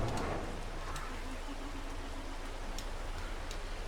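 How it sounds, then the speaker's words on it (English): Soft, steady rain hisses in Farming Simulator 22 on the Erlengrat map, an even wash of patter with occasional faint ticks, heard alone without talk. "Can deal with a little rain."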